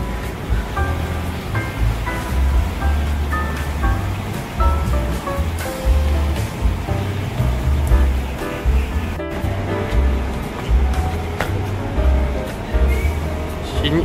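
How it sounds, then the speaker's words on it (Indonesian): The Temiang river in Seremban rushing past nearby, a continuous loud roar of churning water with low rumble, steady throughout, with a person talking faintly at moments. "Wah, sungai Temiang oh."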